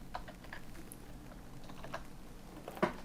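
Quick, light clicks of typing on a computer keyboard, close and fairly quiet, in an uneven stream of keystrokes with a slightly louder tap near the end.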